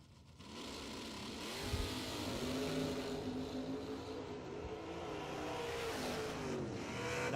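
At a bracket drag racing event, a 1978 Ford Fairmont and a Pontiac Firebird launch side by side, engines swelling from quiet to a loud sustained roar that holds as they pull away.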